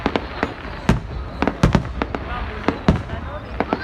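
Fireworks fired in a continuous barrage, a rapid run of sharp, loud bangs arriving at irregular intervals over a dense crackling wash, with the crowd's voices underneath.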